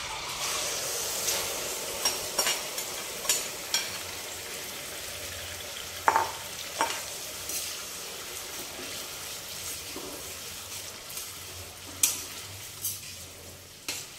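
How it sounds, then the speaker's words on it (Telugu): Thinly sliced tomatoes frying in oil for a drumstick pickle, a soft continuous sizzle broken by periodic scraping stirs, close and quiet with no talk. "ఇలా సన్నగా కట్ చేసుకున్న టమాటాలు కూడా ఇదే ఆయిల్లో వేయించేసుకుందాం."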